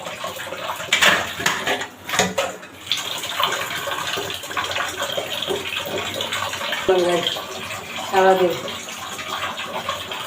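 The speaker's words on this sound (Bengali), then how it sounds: "থালাবাটি ধুয়ে নিচ্ছি, রাতে জমানো কিছু থালাবাটি ছিল" Dishes, pots and utensils are washed under running tap water, with steady splashing and frequent clinks and clatter of metal and crockery throughout, close by, while a person speaks briefly.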